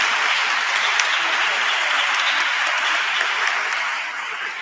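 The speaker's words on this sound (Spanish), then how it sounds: "un aplauso también para la Junta de Andalucía" An audience at a school debate final breaks into broad, sustained applause that fills the room evenly for several seconds before tapering slightly near the end.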